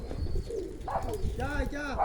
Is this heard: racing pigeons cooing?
yes